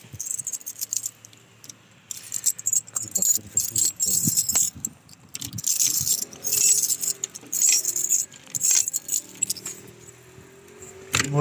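A bunch of keys jangles and clinks up close in repeated bursts of metallic rattling, with quieter handling noises between them, outdoors near a door.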